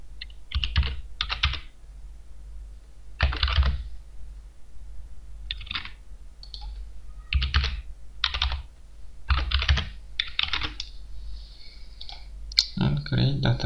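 Short bursts of clicking keystrokes on a computer keyboard as a password is typed, close and fairly quiet, in small clusters separated by pauses, ending with a brief clatter.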